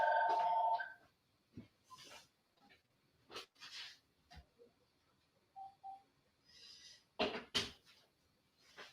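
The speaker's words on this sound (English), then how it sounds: "Let me just turn off this phone." A phone briefly rings with a tonal ringtone for under a second, then stops and gives way to scattered clicks, taps and handling noises in a quiet room.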